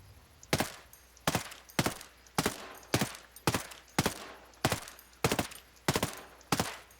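Suppressed SC20K assault rifle fire in Ghost Recon Breakpoint: eleven sharp, evenly spaced single shots about half a second apart, each a crisp muffled crack with a short tail, with no talking.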